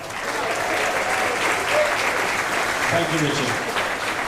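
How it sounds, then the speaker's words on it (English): Audience applause for the captain, master of the Star Princess, at an event aboard a cruise ship: steady, dense clapping from a large crowd that fills the room, with a brief spoken greeting over it near the end. "bring him on with a huge round of applause"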